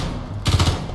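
A single short burst of rapid-fire weapon shots in a video game, a loud, close rattle of several quick rounds that lasts well under a second between quieter stretches.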